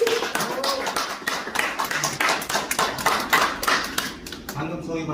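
Audience applause welcoming the next speaker at a business presentation, a dense patter of claps with talk-like murmur mixed in, fading slightly near the end.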